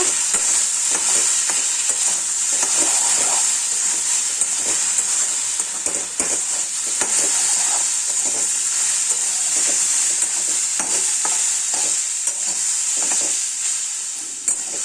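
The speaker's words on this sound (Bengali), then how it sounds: "এবার একটু নাড়াচাড়া দেব" Jujube (kul) chutney stirred in a pan after turmeric and salt go in, giving a steady close sizzle and hiss with soft scraping strokes throughout.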